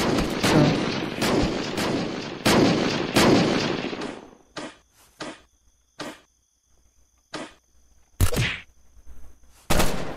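Loud gunshots in a shootout: a dense burst of sharp cracks at first, then isolated shots spaced by quiet gaps, with a faint high insect-like tone in the background.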